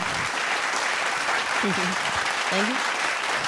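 Dense, steady applause fills a hall as an audience claps for a singer, loud and continuous throughout, with brief voices heard over the clapping.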